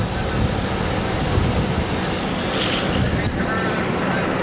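17.5 stock RC race cars whine steadily around a track at Nugget Ranch Raceway during an A-main race, a continuous buzzy hum with a commentator talking over it.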